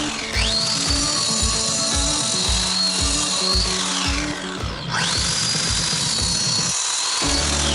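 A high-pitched power saw whines steadily as a 230 mm diamond disc cuts through hard material along marked lines during house construction, with a rhythmic grinding pulse underneath and a brief pitch drop midway.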